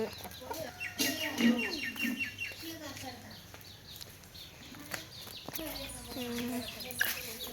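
Hens cluck and chirp nearby in an irregular stream at a rural home in Sivaganga, Tamil Nadu, mixed with other bird calls and occasional voices.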